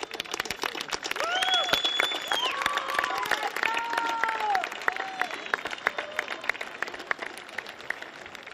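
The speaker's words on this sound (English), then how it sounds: "Stand up and applaud for your folks." A high school graduation crowd stands and applauds their families, with dense, sustained clapping across a large gathering. Whistles and whoops ride over the clapping, and the applause gradually thins toward the end.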